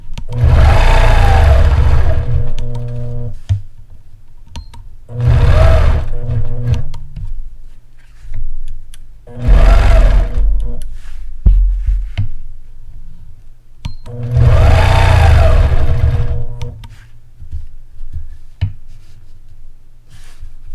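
Sewing machine stitching quilting ruler work on a triangle design, heard in four loud bursts of steady whirring separated by quiet pauses.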